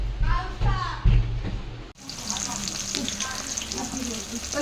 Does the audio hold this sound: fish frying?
yes